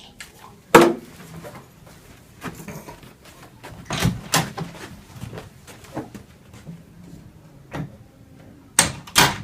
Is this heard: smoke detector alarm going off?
no